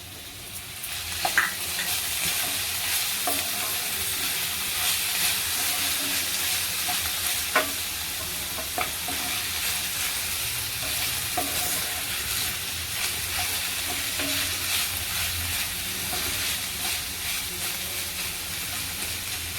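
Green chili, coriander, ginger and garlic thecha sautéing with browned onions in a pan for cluster bean sabji, a steady close sizzle with scattered spoon scrapes and clicks throughout, no talking.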